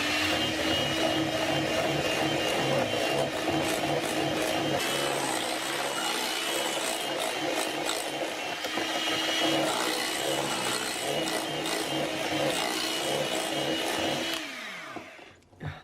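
Peanut butter and stevia being whisked until smooth, a continuous close whirring mechanical drone with rhythmic scraping that runs steadily before cutting off at the end.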